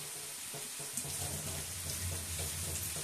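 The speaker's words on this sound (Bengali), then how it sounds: "এবার আমি জল দিয়ে দিই।" Water poured from a cup into a cooking pot holding one cup of rice and one cup of lentils for khichuri, a steady close splashing and trickling that runs for about three seconds with no talk.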